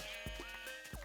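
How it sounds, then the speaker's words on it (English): Sheep bleating in Minecraft, several short wavering bleats from a flock at close range, one after another with steady background hum. "Why is there so many sheep?"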